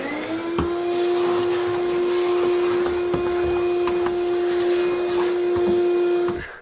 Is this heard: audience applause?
no